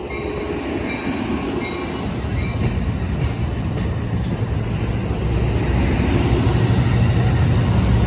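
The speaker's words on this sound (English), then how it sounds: "And this train is a double header." A double-headed Amtrak Capitol Corridor passenger train rumbles steadily past at Emeryville station, a loud continuous roar of wheels and engine that swells slightly toward the end.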